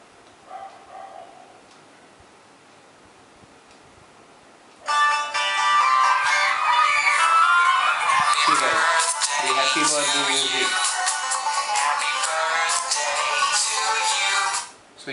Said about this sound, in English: So you've seen the music is playing in the mobile.